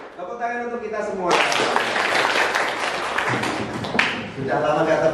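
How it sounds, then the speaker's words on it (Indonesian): Group applause from a classroom of students and teachers, starting after a brief spoken phrase and holding as a dense, steady wash of clapping near the listener, fading slightly before rising again. "Tepuk tangan untuk kita semua."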